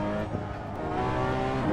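A Porsche 911 GT3 RS in the racing simulator Assetto Corsa drives fast, its engine holding a strong, steady, high-revving tone that swells slightly toward the end of a short burst.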